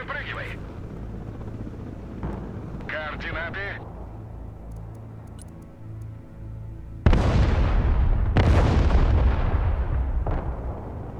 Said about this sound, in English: They've started a fresh barrage